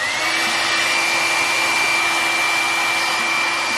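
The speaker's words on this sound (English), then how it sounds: "So it blow dries through these holes or whatever. Like it sends hot air through these holes" A Conair hair dryer with a styling attachment blows hot air in a steady, loud, close whir with a constant high whine, running alone without pause.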